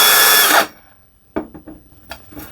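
A Bosch GSR 18V-55 brushless cordless drill whirs at high pitch for about half a second, then stops abruptly, followed by a few light knocks and handling sounds.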